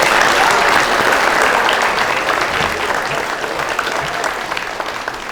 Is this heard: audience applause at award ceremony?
yes